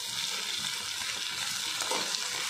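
Okra with salt frying in a pan makes an even, moderate sizzle, with faint stirring movement underneath, steady and close, no voices.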